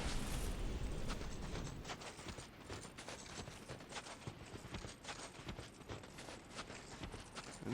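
Horses galloping in Dark Souls 2, a quiet rapid clatter of hooves and rumbling thuds repeating steadily under low game ambience, with no voices.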